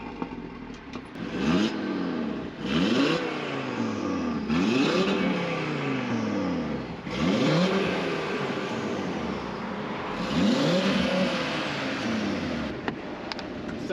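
Tuned Audi RS3 making over 600 hp revving and accelerating in repeated pulls, each rising wail bouncing off the soft limiter before the next gear, loud and close from inside the car.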